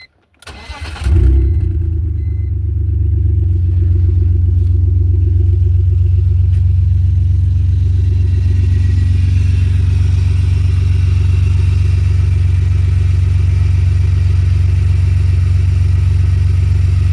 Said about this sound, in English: We just want to let it run just to see if the knock sound comes back.